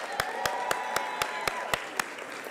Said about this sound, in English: Please give a round of applause to Junior Micah Boggs for creating our video